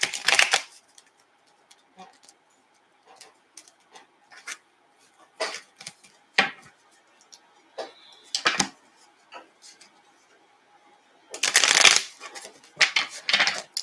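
Large oracle cards being shuffled by hand, giving bursts of papery riffling and slapping scattered through the clip, with a longer loud flurry near the end and quiet gaps between.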